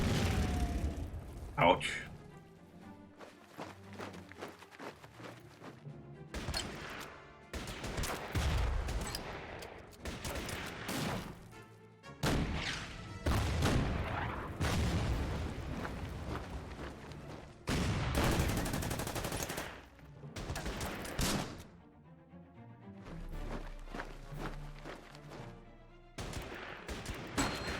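Artillery fire and bursts of gunfire crackle and boom repeatedly in the World War II strategy game Order of Battle, loud and dense throughout, with someone talking over parts of it.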